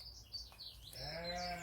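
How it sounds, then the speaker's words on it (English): A ewe in a field bleats for her lamb, one drawn-out call rising out of faint outdoor background noise with a few bird chirps. "the sheep is moaning like she is, calling her lamb."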